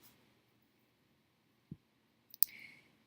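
A single sharp computer mouse click on a Save button, crisp and close in a quiet room, preceded by a softer low tap and followed by a faint rustle.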